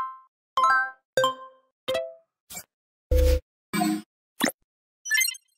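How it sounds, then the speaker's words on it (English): A string of about nine user interface sound effects from a sound design pack: short plops, dings and blips with clean tonal chimes, separated by silence and evenly spaced, with no speech. "User interface."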